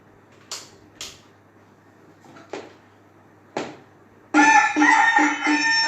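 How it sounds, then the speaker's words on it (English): A rooster crows in short bursts, several separate calls spaced apart, then a loud sustained crow at close range that fills the end. "Cocks crow in the morn and tell us to rise"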